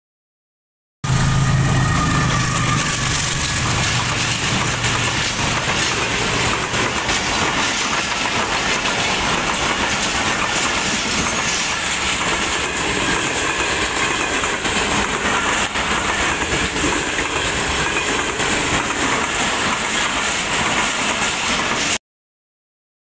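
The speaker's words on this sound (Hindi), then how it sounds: "पहले यहाँ से ट्रेन गुजरी है" A train passes at Kot Lakhpat railway station in Lahore, a loud continuous rumble with rolling wheel clatter that runs for about twenty seconds before cutting off, with no talk.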